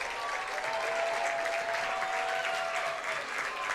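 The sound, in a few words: crowd cheering and applauding a substituted soccer player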